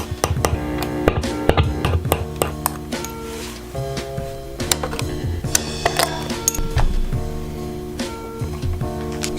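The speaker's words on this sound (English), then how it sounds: "I need to plug this into an amp and tap the pickups with something metal to make sure everything's good" Metal taps on the pickups of a 1984 '57 vintage reissue Fender Stratocaster come through an amp as a quick series of sharp clicks and pings with short ringing tones.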